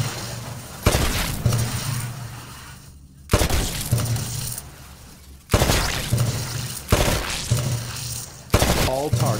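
Bursts of gunfire at the shooting range in Titanfall, four loud volleys of rapid shots separated by short pauses, each burst ringing out and decaying, with no talk over it.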